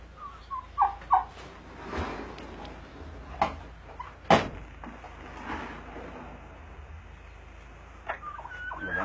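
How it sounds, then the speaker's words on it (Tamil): A turkey gobbles in several short bursts at a moderate distance on a livestock farm, with scattered clunks and faint background noise between calls. "உங்க பின்னாடி வான்கோழி இருக்கு"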